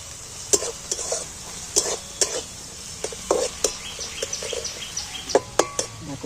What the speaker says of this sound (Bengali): এইটাকে আমি একটু তেলের মধ্যে ভেজে নিচ্ছি